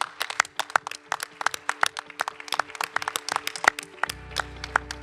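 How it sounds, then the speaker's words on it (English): A conference audience applauds with dense, sharp hand claps at a steady, lively pace, and a low hum enters near the end. "A big round of applause for our faculty."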